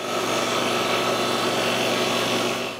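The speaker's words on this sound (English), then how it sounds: "I'm using a 1 3/8 inch Forstner bit to drill the hole." A drill press with a 1 3/8 inch Forstner bit bores steadily into a wooden board, a loud continuous whirring grind up close that holds evenly before trailing off at the end.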